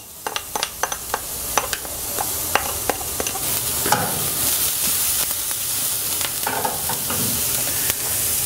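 Onion and garlic frying in a pan for broccoli samosa filling, a continuous close sizzle and hiss punctuated by a rapid series of spatula taps and scrapes against the pan, no talking.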